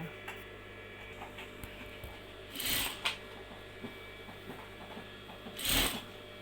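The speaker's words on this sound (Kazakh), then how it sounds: "Осы жерін тігіп аламыз." Sewing machine stitching the neckline of a girl's dress, with two short bursts of rapid mechanical whirring separated by quiet handling clicks and a faint background hum.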